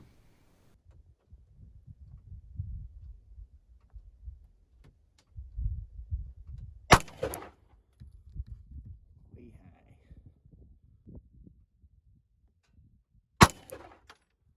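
Two sharp, loud pistol shots from a Springfield Hellcat fitted with a Romeo Zero sight crack out several seconds apart, with quiet movement and low rumble between them.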